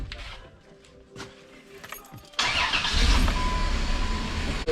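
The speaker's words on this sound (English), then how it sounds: "So we're gonna turn the car on." A 2001 Chrysler Town and Country with a rough idle and a cylinder three misfire code, keys jangle before the engine cranks and catches, then idles loudly and steadily close by.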